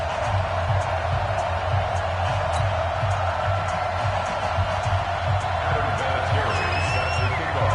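Stadium crowd roaring steadily in a video game football match between the Cincinnati Bengals and Cleveland Browns, a dense continuous wash of cheering with a voice talking over it.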